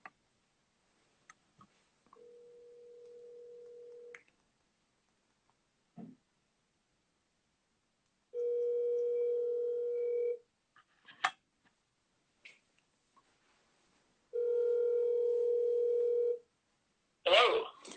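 Telephone call being placed: short dial-tone-like beeps, then two long steady ringback tones separated by pauses, with faint clicks in between and a burst of noise at the end, no talk.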